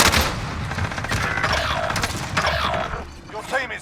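Rapid gunfire in the shooter game Warzone, with bursts of automatic shots and sharp mechanical clatter that run almost continuously and loudly.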